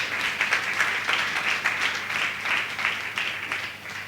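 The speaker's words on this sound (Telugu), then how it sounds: "చప్పట్లు కూడా దేవుని మహిమపరచొచ్చుగా." Church congregation clapping in steady applause, a continuous patter of many hands at moderate distance, rising and falling slightly with no speech over it.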